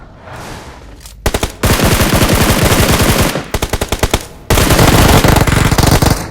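Teammates' automatic weapons in a mobile shooter game fire in loud, fast bursts, three long volleys separated by brief pauses and short clipped shots.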